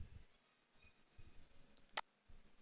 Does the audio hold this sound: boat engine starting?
no